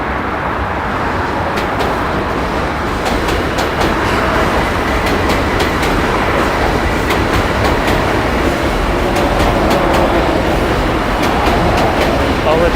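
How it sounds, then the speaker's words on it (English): A New York City M subway train passes over a bridge between Brooklyn and Manhattan, a loud continuous rumble with rhythmic clickety-clack of wheels over rail joints and steady outdoor noise throughout. "There's an M train coming over."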